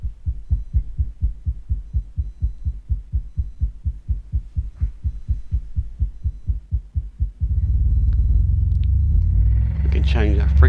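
Stellar Labs subwoofer under repair, playing a low 160 Hz test tone in a small office: a loud, pulsing low throb for several seconds that then smooths into a steady, heavy drone with rattly buzzing above it.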